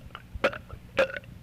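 Two close, throaty burps about half a second apart, each a short guttural rasp, heard alone over a faint background hum.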